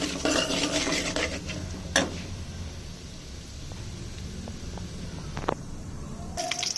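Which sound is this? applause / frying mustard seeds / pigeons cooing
frying mustard seeds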